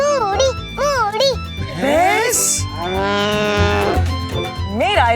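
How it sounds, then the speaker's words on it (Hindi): A buffalo moos loudly and close by in a few long, wavering bellowing calls, strong and full-bodied. "इसे भैंस कहते हैं।"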